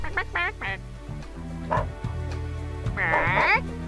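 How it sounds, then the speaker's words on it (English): A dog barks repeatedly in the Dog's Life video game, and parrots in a park squawk back with a brighter chattering call near the end, all fairly close and set over a steady game background. "the parrots respond to your barking"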